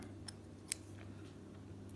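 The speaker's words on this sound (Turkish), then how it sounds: "Makası şöyle biraz kesiyorum." Scissors snipping through yarn or cord for a knitting border project: a few faint, quick, crisp clicks, the sharpest near the middle, heard close up in a quiet room with no talking.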